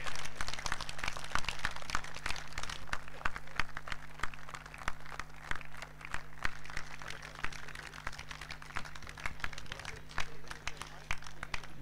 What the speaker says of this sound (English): Let's give a huge round of applause to them.